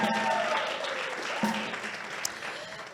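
An audience applauds a sponsor, Standard Bank, at a jazz stage event: a dense burst of clapping that is loudest at first, then slowly fades over a few seconds, with faint crowd voices underneath.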